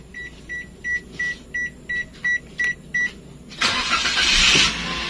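A series of about nine short, evenly spaced electronic beeps, then a Toyota Calya's engine cranks via push button and catches into a loud, close-up start.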